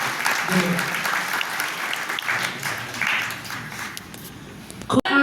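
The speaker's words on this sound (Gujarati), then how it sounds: "જોરદાર તાળીઓ કરવા જોઈએ" A crowd claps steadily at a silver jubilee ceremony of a Bharat Vikas Parishad branch in Palanpur, a sustained round of applause fading near the end before a sharp knock.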